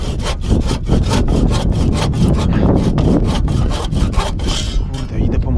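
A hand saw cuts through wood in a steady, rapid back-and-forth rhythm of loud rasping strokes, close up, with no talking, while roofing work on a chicken coop goes on.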